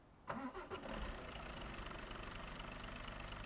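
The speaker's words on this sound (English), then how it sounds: "or if I'm running Z-Mod's DD13, DD15 engine sound pack" A simulated Detroit Diesel DD13/DD15 truck engine from Z-Mod's sound pack cranks and fires in a driving game, catching quickly and settling into a steady, close, loud idle rumble with no talk.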